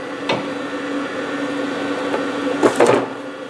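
A Webasto 90ST diesel heater on a Ponsse Buffalo forwarder runs with a steady low hum and whir, punctuated by a few short puffing bursts as it clears out, near and without talk.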